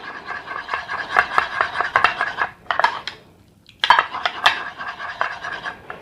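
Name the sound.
stirring a home-remedy mixture with a spoon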